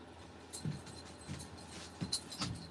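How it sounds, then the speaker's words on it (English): A dog barks in short, faint bursts, about four in quick irregular succession, distant and quiet over a low background hum, with no talking. "dog is barking like cray-cray"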